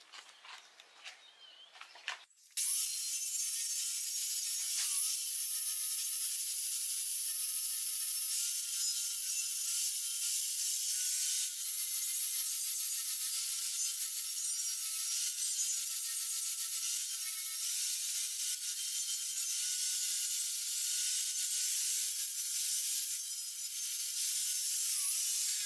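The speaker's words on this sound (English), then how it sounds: "I'm using a 60 grit flap disc" An angle grinder with a 60 grit flap disc grinds a metal stand in a loud, continuous, high-pitched whine that holds steady for over twenty seconds, following a few brief knocks at the start.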